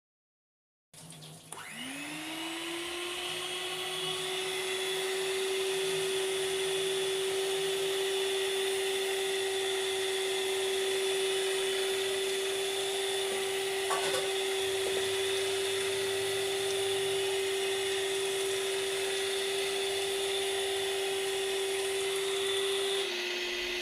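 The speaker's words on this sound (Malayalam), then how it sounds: "ഇനി യൂസ് ചെയ്ത് നോക്കാം. ഞാനിവിടെ ദോശമാവാണ് മിക്സ് ചെയ്യുന്നത്." An electric hand beater whirs steadily at close range while mixing dosa batter, a constant high motor whine that runs alone for over twenty seconds after switching on.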